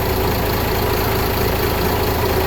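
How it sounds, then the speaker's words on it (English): A Volvo Penta TMD40A diesel engine fitted with a new air filter system runs steadily at idle, a close, constant low mechanical drone with a faint knocking texture and no voices. "I've just started up the TMD40A with the new air filter system on it"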